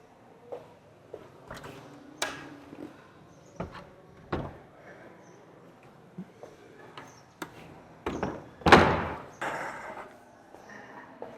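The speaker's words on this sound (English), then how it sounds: "I'm just going to close the windows now." Windows being closed shut in an old colonial building in Cuba, with a series of scattered knocks, slides and thuds at irregular intervals, fairly close but quiet overall, with one louder scrape near the end.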